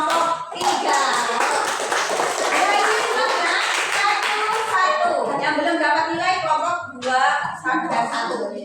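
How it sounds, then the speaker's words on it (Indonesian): Schoolchildren clap for a group during a maths lesson in an Indonesian classroom, a loud burst of many hands that later turns into patterned clapping, with children's voices mixed in. "Beri tepuk tangan untuk kelompok"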